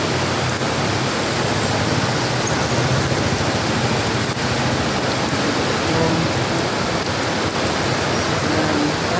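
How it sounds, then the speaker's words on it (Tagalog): Heavy rain pours down in a steady, dense hiss that holds at a loud, even level throughout, with no voices over it. "Tingnan nyo yung ulan. Lakas."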